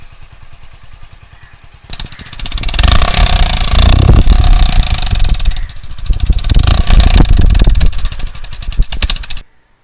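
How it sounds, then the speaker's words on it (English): Honda H'ness CB 350 motorcycle exhaust: a quieter idle thump, then a loud, close, steady rumble as the engine runs stronger, briefly easing, then dropping to silence at the end. "Now we'll hear the exhaust note of the vehicle."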